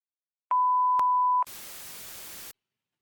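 An answering machine plays a steady electronic beep of about one second, bracketed by short tone blips, then a stretch of loud static-like hiss before a listener's message begins.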